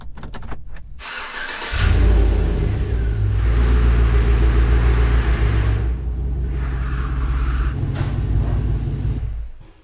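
A 2007 Chevrolet Silverado Trail Boss truck engine cranks and starts, then idles with a steady low rumble and a few revs before settling, close by and loud.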